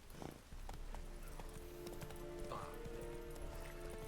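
A horse in the video game The Witcher 3 gallops with a steady, rapid clip-clop of hooves under game music and ambience, moderately close, with a brief whinny-like sound partway through.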